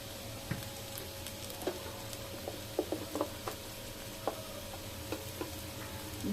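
Ground spices such as chili, coriander and cumin sizzle steadily in a hot pan for bhuna khichuri, with scattered ticks and scrapes from stirring over the constant frying hiss, close and moderately quiet.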